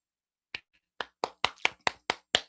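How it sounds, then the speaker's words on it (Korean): An audience claps in response to a host's request, but only a handful of sparse, separate claps sound close and loud against silence, like a few people rather than a full crowd. "박수 한번 부탁드려도 될까요"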